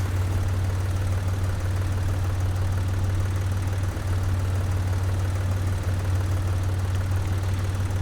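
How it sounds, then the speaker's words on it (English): Steady, loud idling drone of a tractor engine in Professional Farmer 2014, a constant low rumble with faint knocking texture running unbroken throughout with no talk. "another fellow farmer out driving a tractor"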